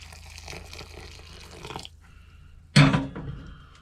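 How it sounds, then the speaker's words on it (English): Hot water poured from a tap into a bowl of drained frozen peas: a steady running-water wash, then a loud, brief splash of pouring near the end. "and add some more hot water."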